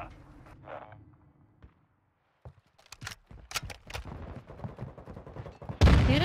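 Bursts of gunfire in a Call of Duty: Modern Warfare 2 multiplayer match, scattered single shots giving way to dense, rapid volleys that end in a loud close blast, with no talking.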